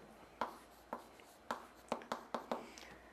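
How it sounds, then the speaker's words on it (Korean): Math is being written on a board while a problem is worked out, giving a series of soft, close taps and short strokes at an uneven pace with no talk. "다시 써볼게요"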